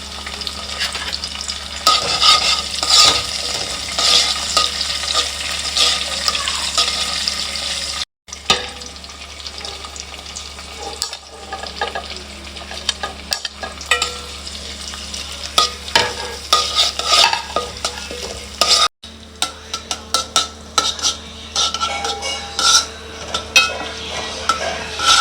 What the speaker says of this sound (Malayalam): കടുക് ഇട്ട് കഴിഞ്ഞാൽ കറിവേപ്പില ഇടുക